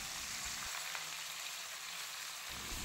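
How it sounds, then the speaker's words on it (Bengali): Marinated chicken sizzles steadily in hot oil over a turned-up gas flame, a continuous close frying hiss with no voices. "তেলের মধ্যে চিকেন দেওয়ার পর গ্যাসের ফ্লেমটা একটু বাড়িয়ে দিয়ে কিছুক্ষণ সময় ধরে চিকেনটাকে কষিয়ে নেব"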